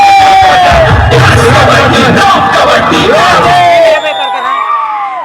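Spectators at a village kabaddi final match between Pendra and Raipur shout and cheer loudly, with rising and falling yells over an announcer's excited voice, before the noise drops off near the end.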